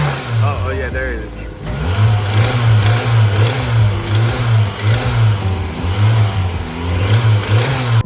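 A turbo Mazda Miata engine revs hard in repeated throttle blips, rising and falling over a rough idle, loud and close with no talking over it.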